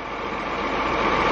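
A farm tractor engine runs at a steady idle, a continuous low rumble with a mechanical drone holding even and close throughout, no voices over it.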